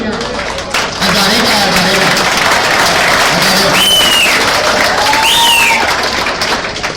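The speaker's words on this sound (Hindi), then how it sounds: "इसके लिए भरपूर तालियां" Audience applause at an Independence Day celebration at a power plant in Riyadh, Saudi Arabia, loud sustained clapping from a crowd after a short pause, with voices and a few whistles or calls over it.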